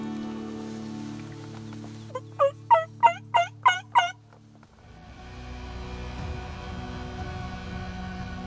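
Wild turkey gobbler in the woods gobbling in a rapid burst of about six loud, close calls lasting around two seconds, then stopping, followed by rain-like outdoor noise.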